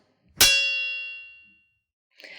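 A metal object gives a single sharp clang that rings on with a long, shimmering decay, followed by a faint scrape of metal.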